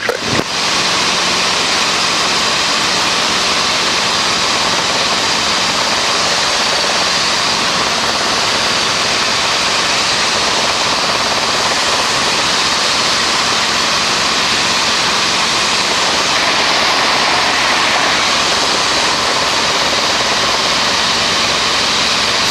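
Inside a helicopter cockpit during a first training lesson, the engine and rotor make a steady, loud broadband roar with a constant low hum that carries on without pause for the whole stretch.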